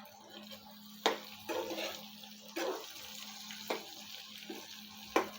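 Onion and tomato roasting in a pan for cashew curry masala, a soft background sizzle broken by a few sharp spatula clacks and scraping stirs, quiet and close, no speech.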